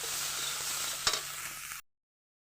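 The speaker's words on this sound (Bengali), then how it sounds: "ভালো করে নাড়িয়ে ছাড়িয়ে দেবো।" Frying banana and black lentil mixture being stirred in a pan with turmeric, a steady sizzle with a scrape of the spoon partway through before cutting to silence.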